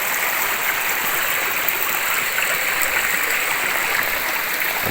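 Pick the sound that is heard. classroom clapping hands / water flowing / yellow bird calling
water flowing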